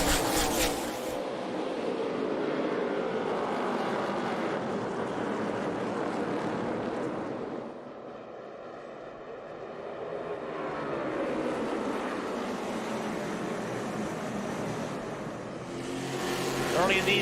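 Xfinity stock cars weave around Martinsville's short track warming their tires before a 250-lap race, a steady loud engine roar that dips midway as the pack passes and then swells again, with commentators talking over it throughout.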